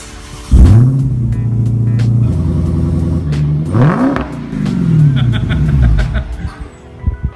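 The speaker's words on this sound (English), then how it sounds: "though I never got to drive his Hellcat, I captured my daughter firing it up" A Dodge Hellcat V8 barks to life nearby, then revs hard several times in rising and falling sweeps before settling to idle, with brief laughter and voices in the background.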